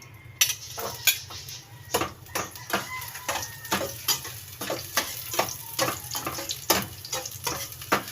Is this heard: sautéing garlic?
yes